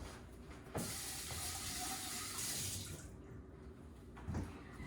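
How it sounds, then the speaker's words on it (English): Tap water runs steadily into a food processor bowl during a quick rinse, a close, continuous splashing hiss with a few knocks of the bowl against the sink. "I'm going to just give a quick rinse to this bowl"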